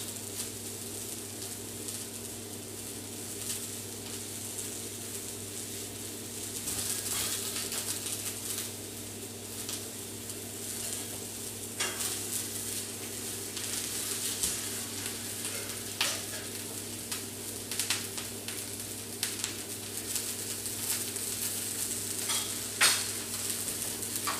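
A veggie omelette fries in a pan, a soft, steady sizzle with occasional faint scrapes and taps running throughout, fairly quiet and without talk.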